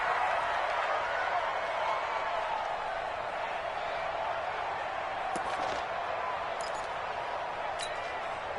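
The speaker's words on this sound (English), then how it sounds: "The crowd here in the Dome making things difficult." A steady stadium roar fills a domed arena in a Saints versus Raiders football video game, a constant wash of crowd noise held at an even level, with a few faint sharp knocks and murmured commentary underneath.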